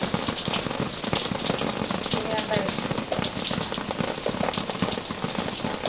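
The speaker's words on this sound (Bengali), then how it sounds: "ঝমঝম করে বৃষ্টি পড়ছে।" Heavy rain falls constantly and loudly, a dense, even roar of drops striking surfaces nearby, with a voice faintly present beneath it.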